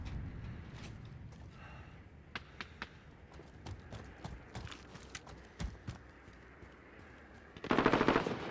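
An enemy sentry gun in a video game fires a scattered series of sharp cracks and short bursts, some sounding distant, before a louder dense burst of fire closes the sequence.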